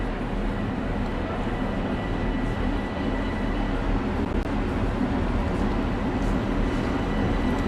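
A Long Island Rail Road commuter train, the 12:28 to West Hempstead, pulls into Atlantic Terminal station with a steady low rumble and broadband rail noise at moderate level, no clear speech heard.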